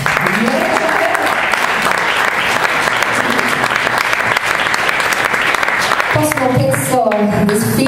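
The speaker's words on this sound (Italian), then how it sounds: "Coro un applauso." Loud applause from a concert audience at a jazz trio's show, dense and sustained throughout, with brief voices and musical tones emerging near the end.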